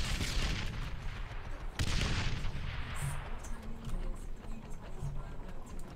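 Gunfire in the military video game Arma 3, with sharp bursts of shots and a heavy blast near the two-second mark amid other scattered cracks, while players talk over the action.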